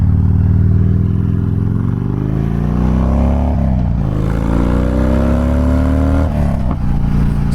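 A custom Harley-Davidson Fat Bob's engine idles loud and close with a deep, lumpy rumble, then revs up and eases off twice, pitch climbing on each rise before settling back to idle.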